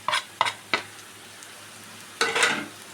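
Turmeric, chilli, coriander and pepper powders with chicken masala stirred in a pan for a roast: three quick scraping strokes, a pause with a faint low sizzle, then a longer scrape, close and unvoiced.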